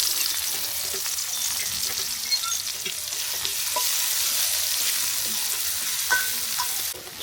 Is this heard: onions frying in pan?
yes